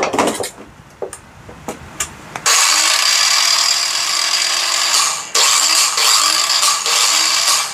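A few clicks and handling noises, then a small 12V battery-powered Japanese saw whirs loudly and steadily, briefly stopping and restarting before running on.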